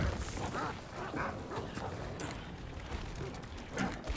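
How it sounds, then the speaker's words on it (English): Demon dogs in the Resident Evil 4 Remake video game bark and yip in a quick uneven series, mixed with game ambience and brief rustling. "Those are demon dogs."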